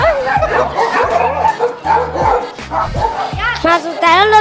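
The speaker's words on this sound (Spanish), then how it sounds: "Me asustaron los perros." Several dogs bark and yip repeatedly at close range on a farm, overlapping with each other and with people talking.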